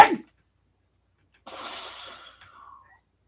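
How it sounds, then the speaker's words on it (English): A single sneeze from a person assembling a toy kit, a sharp burst with a trailing exhale, fairly close and heard alone without talk. "And I'm going to sneeze."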